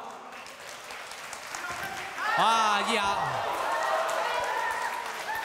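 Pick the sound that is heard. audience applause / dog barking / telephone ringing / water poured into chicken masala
audience applause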